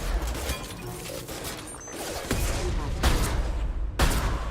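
A new sniper rifle fires in Mass Effect 2, a few heavy sharp reports at roughly one-second intervals, set within a dense, busy layer of combat noise and rumble.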